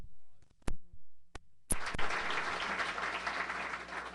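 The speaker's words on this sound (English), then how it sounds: "So please give her a round of applause." An audience at a corridor planning workshop breaks into applause after a few isolated sharp claps, a steady wash of clapping that runs to the end at moderate level.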